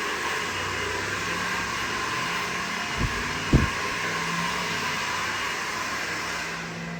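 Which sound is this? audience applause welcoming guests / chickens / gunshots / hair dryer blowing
hair dryer blowing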